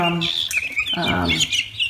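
Guinea fowl keets chirp and call in rapid, overlapping high tweets and short squawks, fairly loud and close, continuing without a break across the whole moment.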